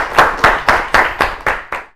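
Students' audience claps in seven crisp, evenly spaced bursts, loud and close, like a group clapping in unison at a children's quiz show in a studio.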